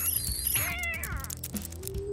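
A kitten meows close up, with a high, sliding cry that falls in pitch, followed by a shorter meow, over a busy background of clicks and thumps.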